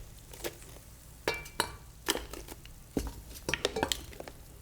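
A utensil scrapes and knocks against a pan holding roasted beef bones for bone broth, leaving irregular metallic scrapes and clatters at close range over a low background hum, with no talking.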